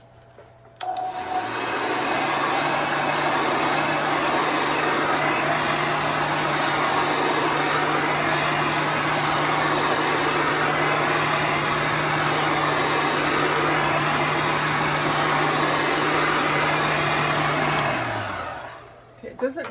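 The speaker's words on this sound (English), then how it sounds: "I'm going to dry this with my heat gun." A heat gun blows steadily on a fresh coat of paint, a loud, even whirring roar that switches on, holds unchanged for about sixteen seconds, then winds down and cuts off.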